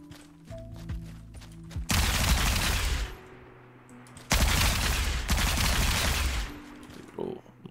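Two long, loud bursts of SMG fire in the sci-fi game Captain McSpacebiff, with quieter clicks and game sounds in the gaps.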